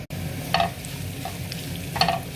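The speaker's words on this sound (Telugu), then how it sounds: "ఇదే నూనెలోకి కొంచెం నూనె వేసుకుని ముందు అల్లం ముక్కలు వేసుకుందామండి" Ginger pieces fry in a little oil in a pan, giving a steady low sizzle with two brief scraping stirs; no voices.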